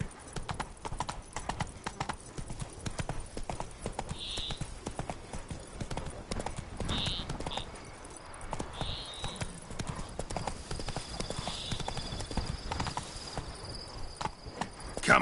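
The horse Roach clip-clops at a gallop in The Witcher 3, steady rhythmic hoofbeats throughout at moderate level, with brief game sounds and a few short vocal calls over them.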